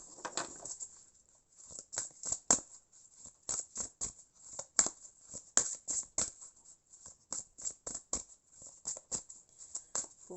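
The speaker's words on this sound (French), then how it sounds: "Je prends une autre carte." Tarot-style cards are drawn and handled from a deck, giving a string of light, crisp paper flicks and slides in quick irregular bursts, close and quiet with no talking.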